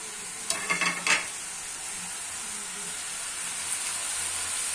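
Minced meat and potatoes fry in a pan with a steady, soft sizzle, broken early by a few brief scraping stirs before settling into an even hiss.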